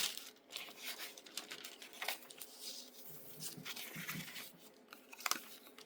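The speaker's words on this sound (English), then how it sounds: "Love the sound of this paper." Dry paper crinkling and rustling close by, steady irregular crackles with a few louder crunches, no voices.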